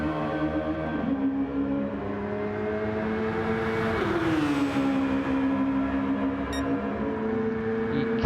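A Super Formula race car engine in a racing game at Monza near Curva Parabolica screams at high revs, its pitch dipping and then climbing as the car passes, loud and steady throughout.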